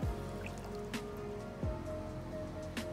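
Feet wading through shallow water about 8 to 10 inches deep on the sun deck of a pool with a Midnight Blue QuartzScapes finish, giving a few close, soft sloshing splashes and drips over a quiet background.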